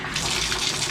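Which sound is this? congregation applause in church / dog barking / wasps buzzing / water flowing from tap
water flowing from tap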